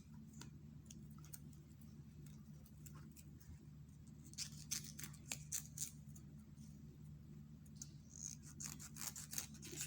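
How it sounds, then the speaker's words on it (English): Scissors snip through a web net fascinator base in a string of soft, close, irregular clicks and crisp cuts, quiet and alone against a faint hum. "use scissors to cut it"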